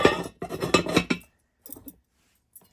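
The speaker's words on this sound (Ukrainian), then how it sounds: "Ось оця посуда, посудина для гарячих." New dishware from Australia, including a serving dish, rattles and clinks as it is handled, with a few close clusters of clatter followed by a pause and two fainter, brief clinks.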